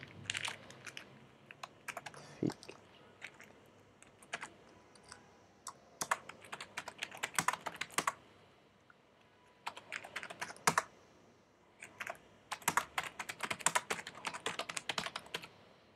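Close, quiet computer keyboard typing while entering LaTeX code, with irregular bursts of crisp key clicks separated by short pauses and no talking.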